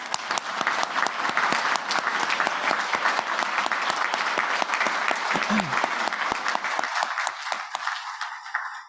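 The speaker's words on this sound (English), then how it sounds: "let's give all of your loved ones a rousing round of applause" A law school commencement audience applauds steadily, dense sustained clapping filling the hall at full volume for about eight seconds before tapering off abruptly near the end.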